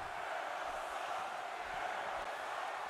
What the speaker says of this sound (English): the crowd hating on Jericho right now. You can just hear the passion in their voices